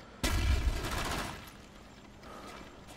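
Gunfire in Call of Duty Black Ops on the Wii, a sudden loud burst of rapid shots that fades over a second or so into a low background rumble.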